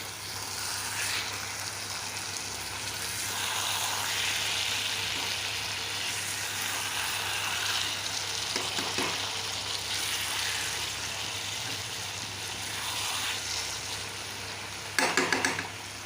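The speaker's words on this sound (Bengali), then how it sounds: "মশলাটা সাঁতলানো হয়ে যাবে এটা একটু ভাজা ভাজা হয়ে যাবে" Spice paste fries in oil in a pan for a spicy pabda fish curry with eggplant and potato, giving a dense, steady sizzle with occasional stirring scrapes. A short clattering burst comes near the end.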